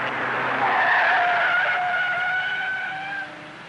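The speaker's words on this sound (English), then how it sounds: "Every time I hear brakes screech like that" Car brakes screech in a long, loud tire squeal with wavering high tones, fading slightly toward the end; no talk.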